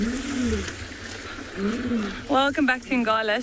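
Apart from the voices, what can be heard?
lions roaring in the wild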